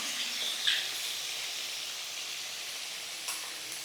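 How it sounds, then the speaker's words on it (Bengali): Snakehead fish frying in oil until crisp in a rustic village-style kitchen, giving a steady, even sizzle and hiss with a couple of small pops, moderately soft and without any talking. "এবার মাছগুলো একটুখানি কড়া কড়া করে ভাজবো।"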